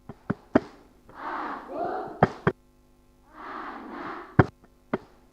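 A group of children in a Catholic SEKAMI mission training session perform a clapping chant, with sharp, loud claps punctuating short bursts of chanted voices in a rhythmic call pattern.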